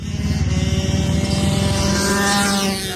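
Small mini bike engines, KX65-type bikes and similar 150 singles, buzz steadily at a kart track, a continuous droning rev that stays loud and close, with no speech over it.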